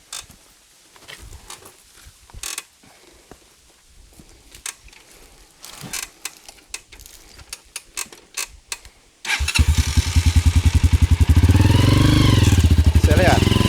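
A Honda XR 200 trail motorcycle starts after several seconds of quiet clicks, creaks and voices, then its single-cylinder engine catches and runs loud and close with a rapid, steady thumping idle.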